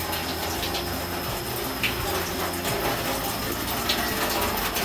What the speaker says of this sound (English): the water is flowing from this stone, but there is a small hole, but so many holes